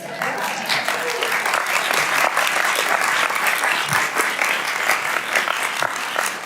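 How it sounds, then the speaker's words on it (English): Sustained applause from the room at a Democratic congressional hearing, dense even clapping held steady at close range with some voices underneath. "I'm not really accustomed to the applause, but I love it"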